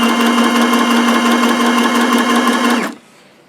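A sewing machine runs a steady straight stitch through fabric baby book pages, a loud continuous whir with a fine rapid needle rhythm, stopping abruptly near the end and leaving quiet room tone.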